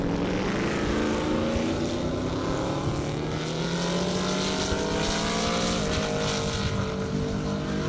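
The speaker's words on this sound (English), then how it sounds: "Listen to that car eat." A Big Red Camaro drag car roars at full throttle down an airport airstrip, a loud sustained engine howl with rising harmonics that climb through the gears as it accelerates past, with no talk.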